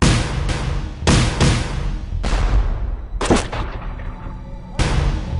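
Cannon firing grapeshot in an eighteenth-century battle, several heavy booming blasts spaced about a second apart, each with a long rumbling decay, loud and close with no talking.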